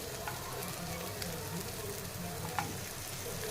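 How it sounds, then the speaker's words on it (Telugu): Curry frying in a pan after coriander powder is added, with a steady close sizzle and occasional scrapes and clicks of a spoon stirring through it. "ధనియాల పౌడర్ వేసాను కదా, మంచిగా ఇట్లా కలుపుకుందాం"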